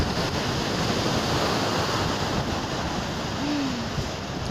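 Steady wash of ocean surf at a California beach, continuous and fairly loud, with wind rushing across the microphone and no talking.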